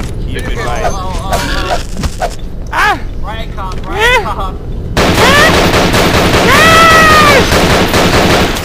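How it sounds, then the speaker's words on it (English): Video game gunfire rattles in quick bursts, mixed with chirpy, squeaky game effects and a louder, denser stretch of firing in the second half. "I have a gun. Shot it."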